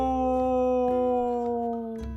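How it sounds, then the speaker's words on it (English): A long, sustained howl echoes through underground mine caverns, holding a steady pitch with strong overtones and a reverberant tail across its whole length, loud and alone with no talk. "you hear that howl just echoing through the caverns around you"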